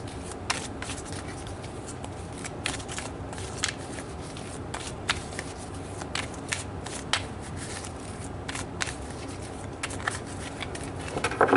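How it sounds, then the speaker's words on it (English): Tarot cards shuffled for a reading, a continuous close papery riffling with frequent sharp flicks of cards snapping together, heard over a steady background hiss. No one speaks. "So let's pull some more cards, Libra."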